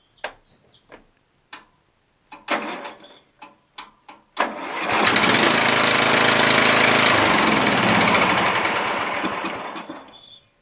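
An MTD Yard Machines lawn tractor with a weak starter clicks in a few short irregular taps, then cranks slowly and loudly in a steady, laboring rhythm for several seconds up close.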